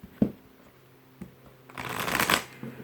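Angel oracle cards are shuffled close by: a couple of soft taps as the deck is handled, then a rising riffling flutter of cards in a short burst.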